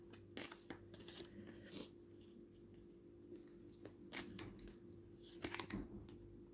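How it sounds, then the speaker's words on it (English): Tarot cards being shuffled by hand nearby, quiet riffling and slapping sounds in irregular bursts against a soft background hum. "you see how many times I shuffle these cards"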